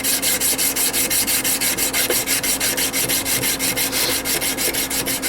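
Brass is sanded with 120 grit sandpaper in steady, fast back-and-forth strokes, a continuous close, rhythmic scratchy rasp with no pauses.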